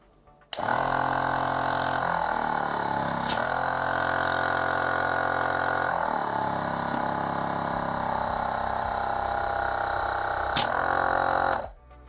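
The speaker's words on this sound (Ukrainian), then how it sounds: "Працює е, компресор дуже тихо, мабуть, е, найтихіший компресор, з яких ми, е, у нас є" A BELAUTO BK49 12-volt car air compressor switches on and runs with a steady, droning mechanical hum and rattle for about eleven seconds, then stops abruptly.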